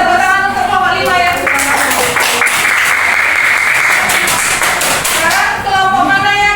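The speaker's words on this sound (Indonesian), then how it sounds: "beri tepuk tangan untuk kelompok 5 ya" Classroom students clapping for a presenting group: a loud burst of close, rapid hand claps that swells in the middle and fades at the end, with a voice speaking before and after.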